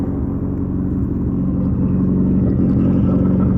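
A Mazda Miata engine running on Speedy EFI idles close by, a loud, low, lumpy rumble with a steady pulsing rhythm throughout and no talk.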